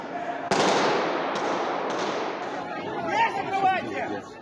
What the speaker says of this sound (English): The sound of gunfire echoes inside an entertainment complex on the